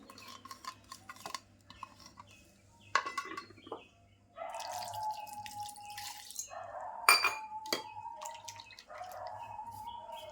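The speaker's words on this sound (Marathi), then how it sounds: "आता मिक्सरच्या भांड्यामध्ये पण पाणी ओतून सगळं व्यवस्थित असं काढून घ्यायचं" Water poured into a kitchen mixer jar to rinse out ground masala, heard as faint trickles, drips and splashes with clinking of the jar, close by and quiet.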